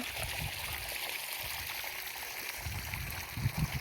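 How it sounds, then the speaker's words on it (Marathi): Water from a well's pump motor runs along an irrigation channel in a sunbaked farm field. It streams and gurgles at a steady, moderate level from start to finish, with a few louder splashes near the end. "मोटर झाली चालू पाणी चाललं आहे दांडाने मस्त"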